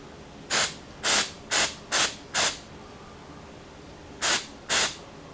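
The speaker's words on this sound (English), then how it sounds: "spray it with activator if you have it" Short hissing bursts of super glue activator sprayed from an aerosol can during a car interior repair, five quick puffs in a row, a pause, then two more, close and crisp.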